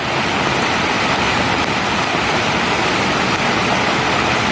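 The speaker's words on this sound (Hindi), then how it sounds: "देखिए पानी बहुत जोर से बारिश हो रहा है।" Heavy rain pours down hard on a garden plantation in Dima Hasao, a dense, unbroken roar of water that stays loud and steady from start to finish with no voices.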